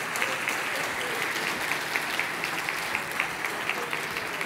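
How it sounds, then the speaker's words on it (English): Audience applause at the 2022 GAA Champion 15 awards ceremony at Croke Park in Dublin, a thick, sustained burst of clapping from a large crowd that carries evenly through the whole stretch. "give them a warm round of applause"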